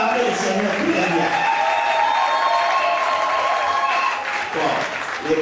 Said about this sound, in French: Les mamans acclament le Seigneur très bien.